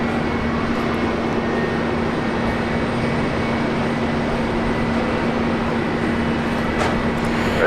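A Velocity airliner taking off from runway 01 left at Brisbane Airport, a loud sustained jet engine roar with a steady hum, constant in level from start to end.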